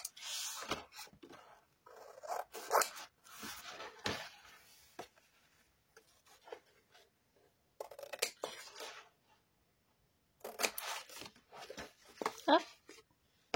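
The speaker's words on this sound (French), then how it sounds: "Je vais couper mes angles." Scissors cut the corners of a paper coloring album in quiet, scattered snips and rustles, with soft handling sounds and gaps of silence between them.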